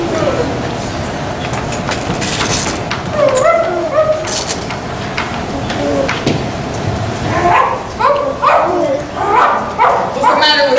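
A dog barks and yips repeatedly during a school skit, the barks mixed in among people talking and a steady background tone.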